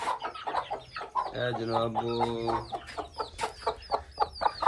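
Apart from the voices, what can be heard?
chickens clucking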